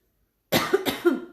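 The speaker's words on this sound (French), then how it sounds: "Oh, je tousse" A single rough smoker's cough, close and fairly loud, breaks a moment of silence with two quick bursts.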